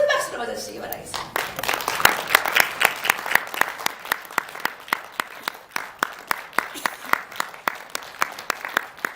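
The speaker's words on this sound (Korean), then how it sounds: "나오실 때 큰 박수로 맞아주시기 바라겠습니다." An audience at a press conference greets a speaker with a brief murmur of voices, then applause. The crowd's clapping swells and settles into a steady, regular rhythm of crisp, close hand claps that carries on to the end.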